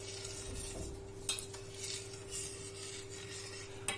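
A spoon stirs prunes and sugar in a tajine pot, making faint, repeated scraping and clinking strokes against the pot over a steady low kitchen hum.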